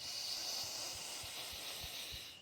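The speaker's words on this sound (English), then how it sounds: "And one more time, breathing in the blue light of calm." A deep yoga breath in comes as a soft, steady airy hiss lasting about two seconds, close and quiet, with faint low thumps beneath.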